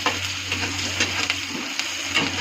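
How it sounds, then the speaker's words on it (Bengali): Chopped onions fry in a pan and are stirred, making a continuous close sizzle with faint scraping strokes at a steady level and no voices. "একটু ভালো করে নাড়াচাড়া করবো। একটু লাল লাল হবে পেঁয়াজটা"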